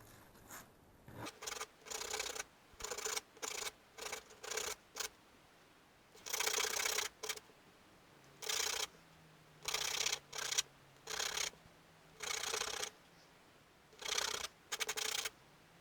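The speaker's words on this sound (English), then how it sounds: "I just need to sand it." Balsa wood crankbait lure bill being sanded by hand, a series of short rasping strokes in irregular bursts with brief pauses between, close and fairly clear with no talking.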